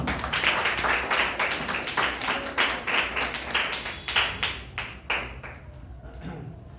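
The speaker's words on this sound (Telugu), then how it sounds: "చప్పట్లు కొట్టండి" An audience at a church gathering claps together in a rhythmic run of loud beats that slowly fades out, with some voices underneath.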